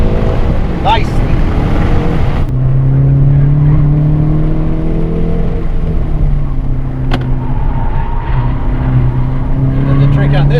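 A car on a race track accelerates hard under load, its engine note climbing in steady harmonic sweeps before shifting and rising again. The engine is loud and close, with a voice speaking over it.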